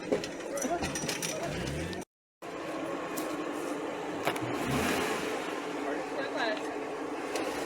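A Jeep JL engine revving while it climbs a proving-ground obstacle, a mid-pitched surge of throttle with bumps and clunks from the drivetrain, and people talking over it outdoors.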